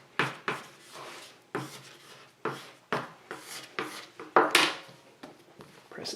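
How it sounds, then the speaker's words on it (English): A spatula scrapes flour across pizza dough in a bowl, a series of close, dry rasping strokes in an uneven rhythm, each a short scratchy rub, with no talking. "just kind of scrape all the flour to the center of it"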